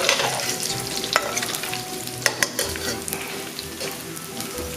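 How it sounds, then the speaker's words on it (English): Bacon sizzling and crackling loudly in a pan for a green bean casserole, with a spatula stirring and a few metallic scrapes and taps against the pan; no talking. "See that bacon is browning nicely in here?"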